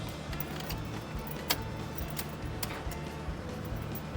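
Keys jangle in the ignition of a 2008 Chevy Cobalt parked in a garage, a steady metallic rattle with a few sharper clinks over a low idle-like hum.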